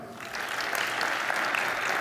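A conference audience at OSCON 2012 breaks into applause, a dense wash of clapping that swells after a brief moment and holds steady throughout.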